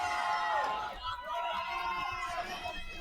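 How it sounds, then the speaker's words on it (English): A roller derby crowd cheers and shouts at a bout, making a dense, loud wash of voices that swells and dips but never stops. "The crowd is thrilled."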